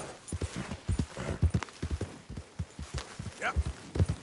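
A horse gallops in Red Dead Redemption 2, with rhythmic clip-clop hoofbeats thudding steadily throughout and a brief whinny near the end, close and clear.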